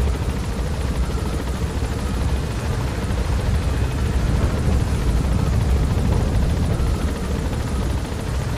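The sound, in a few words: helicopter in video game Metal Gear Solid V: The Phantom Pain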